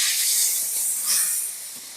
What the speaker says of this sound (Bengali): বড়ি ভেজে নেওয়া হয়ে গেছে, এবার তেলে মাছগুনাও হালকা করে ভেজে নিছি।